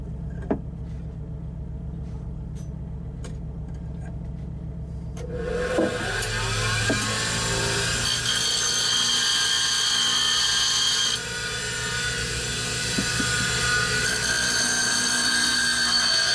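A woodturning tool sharpened against a spinning grinder in a workshop aboard a catamaran, first a low motor hum, then a loud steady grinding whine with a slightly changing tone that carries on to the end.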